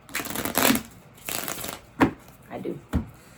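Tarot cards being shuffled by hand in a series of riffling bursts, several distinct shuffles with short pauses between, close and moderately loud, with no talking.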